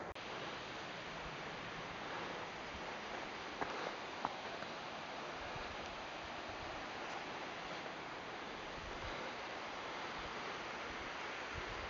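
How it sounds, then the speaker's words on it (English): A distant waterfall near Goat Lake in Idaho's mountains, heard as a steady broadband rush of falling water, continuous and even for the whole stretch, with a couple of faint brief ticks and no talking over it. "that waterfall over there is just"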